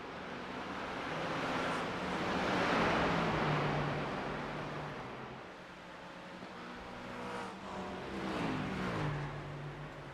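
GT3 race cars roar around the Interlagos circuit in a racing video game, engine notes rising and falling as cars accelerate and shift, with a louder surge midway and pitch sweeps near the end.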